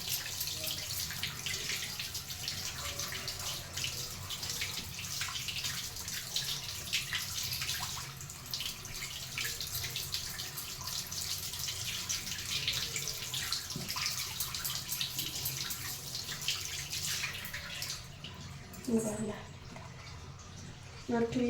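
Raw meat being washed under a running kitchen tap, a continuous splashing flow of water with scrubbing and dripping, fairly close, while someone speaks over it.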